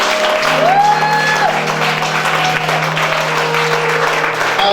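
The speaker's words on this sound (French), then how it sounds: "Est-ce que quelqu'un peut acclamer le Seigneur?" A church congregation applauding and cheering in praise during a worship service, dense sustained clapping that fills the room at high volume, mixed with tonal sounds from a keyboard or music.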